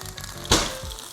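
Buffalo lemon pepper chicken wings frying with a steady soft sizzle and one brief louder crackling burst partway through.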